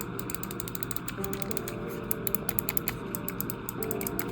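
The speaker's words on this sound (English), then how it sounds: "every time you click a button or one of your triggers, it's gonna feel like a mouse click" Mechanical button and trigger clicks on a Mobapad M6 HD controller for Nintendo Switch, a quick, uneven run of sharp close-up clicks like mouse clicks over a soft background hum.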